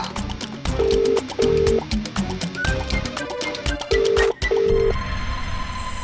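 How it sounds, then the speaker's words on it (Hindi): A telephone rings again and again without being answered, its repeated electronic ring tones standing out loud and clear over busy background sound and music. "फोन तो उठाइए संतोष जी, फोन तो उठाइए हमारा।"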